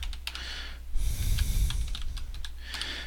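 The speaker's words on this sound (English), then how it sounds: "So we're going to type in VI for the image editor" Quick bursts of close, crisp keystrokes on a computer keyboard, pausing briefly in the middle before the rapid clicking resumes, with a soft low hum behind.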